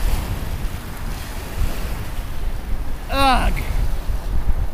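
Strong wind buffets the microphone at a windy shoreline by a channel while fishing, with steady surf washing underneath; a person briefly grunts partway through.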